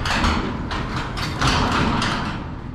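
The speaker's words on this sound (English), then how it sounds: "So what I'm doing now is hitting the plus button to raise the door." A residential garage door opener raises the door, giving a steady mechanical rumble and rattle of the panels and track that runs continuously and fairly loud, with no talking.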